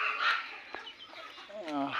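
Desi country chickens on a poultry farm giving short clucks and a rising squawk, close and fairly faint, with a few small knocks in between.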